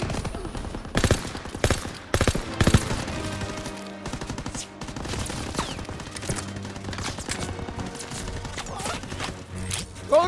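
Machine gun bursts and scattered gunshots from a World War II D-Day assault in Call of Duty WW2, loud and continuous with sharp cracks clustering early, over a dense din of battle.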